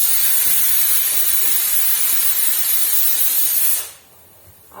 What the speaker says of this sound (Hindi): एबे प्रेशर कुकर रो सीटी मारबार